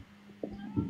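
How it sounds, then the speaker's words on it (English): A nearby cat lets out a couple of short, faint meows in under a second, over quiet background noise. "Can you hear that fucking cat?"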